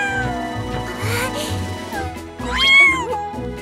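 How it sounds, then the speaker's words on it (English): A cartoon kitten stranded on a tall building meows repeatedly in high, wavering cries, loud and close, over a bed of background music. "Look! The kitten can't get down from the tall building!"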